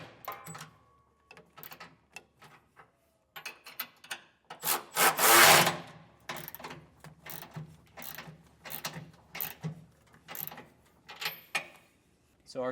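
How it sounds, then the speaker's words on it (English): A 3/4 inch socket and wrench tightening bolts on a B&W Companion 5th wheel hitch brace in a 2024 Ford F-350 bed, heard as close, repeated rasping ratchet strokes with one longer, louder grinding burst midway. "that's going to be the 3/4 inch socket and wrench"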